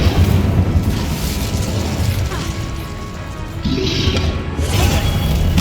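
Spell blasts from the Hogwarts Legacy video game, the fire and blasting-curse casts crashing and booming in a steady stream of loud impacts and rumbling effects, with no clear speech.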